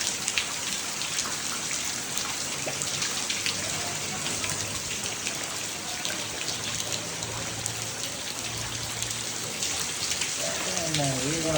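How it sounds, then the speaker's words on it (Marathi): Heavy monsoon rain pours onto surfaces around a flooded house, giving a dense, steady patter that lasts the whole stretch. A voice briefly rises near the end. "तर पाऊस आला"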